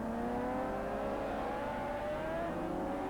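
Suzuki superbike racing at Oran Park in a 1983 Swann Series race, its engine a steady, sustained high-pitched whine holding on through the whole stretch with a slow rising tone, fairly distant and unbroken by talk.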